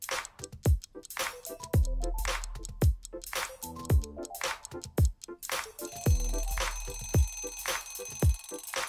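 A puzzle countdown timer ticks steadily with short electronic beeps and descending tonal blips in a regular pulse, followed by repeated sustained buzzes, all clear with no voice.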